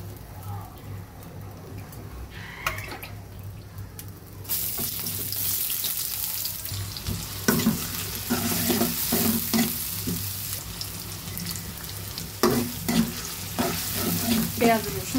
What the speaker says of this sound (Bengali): পেঁয়াজ রসুনগুলো আমি ভেজে বেরেস্তা করে ডালের ভিতরে দিয়ে দিব।